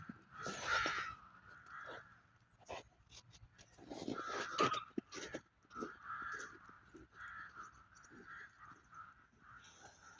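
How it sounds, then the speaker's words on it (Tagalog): Many crows caw repeatedly in a snowy setting near a tree, their harsh calls overlapping and fairly close, with brief quieter gaps between bursts. "Daming uwak dun eh."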